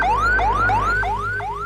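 Ambulance siren in a dubbed South Indian comedy film scene, a loud rising wail that repeats about every 0.4 seconds over a low steady hum, with no talk.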